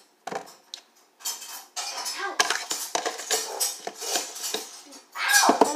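Slime ingredients and baking soda being stirred in a bowl: irregular clinks and scrapes of a utensil against the bowl, close up, in short bursts with brief pauses and no talk.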